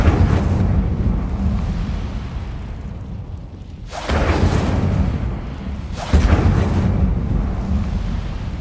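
An Incendio fire spell cast in the Hogwarts Legacy video game bursts out twice as loud, rumbling whooshes over a low steady background drone, each flare swelling suddenly and then holding.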